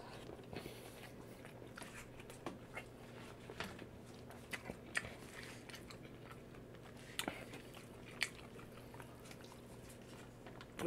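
Someone eats a seafood feast of shrimp, crab, oysters, lobster, fish and crawfish in butter sauce, with scattered close wet bites and chewing clicks over a quiet background, with no talking.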